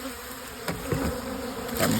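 Honeybees at a winter hive fitted with winter patties give off a steady close buzz, with brief swells of louder droning from agitated bees.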